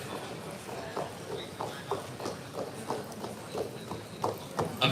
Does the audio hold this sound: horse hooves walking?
yes